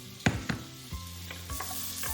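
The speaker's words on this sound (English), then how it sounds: "We'll add roughly around that's around 60 grams of butter that's in there now" Roughly 60 grams of butter sizzles in a preheated, decent-sized pot for cauliflower soup, a soft hiss punctuated by several sharp knocks and scrapes as pieces drop in and are moved, close and fairly quiet.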